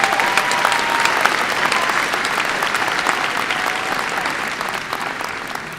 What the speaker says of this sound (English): could you give a round of applause for these hardworking teachers up front here